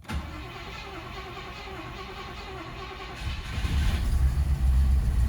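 An old Rover V8 that has sat for close to ten years cranks over with a steady churning rhythm, then starts and swells into a louder, rumbling idle near the end.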